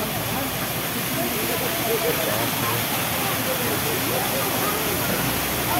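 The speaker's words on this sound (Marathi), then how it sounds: "हा धबधबा आहे बाय द वे माळशेज घाटातला" A steady, loud roar of rushing water pours on without a break from a waterfall close by in Malshej Ghat, during the monsoon.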